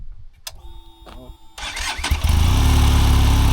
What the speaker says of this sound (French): Tu peux nous faire écouter un peu le bruit de la moto du coup?